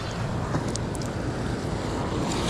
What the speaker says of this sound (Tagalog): Malaki yung alon eh.